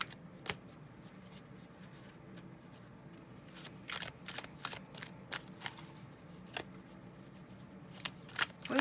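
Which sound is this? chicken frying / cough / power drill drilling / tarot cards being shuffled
tarot cards being shuffled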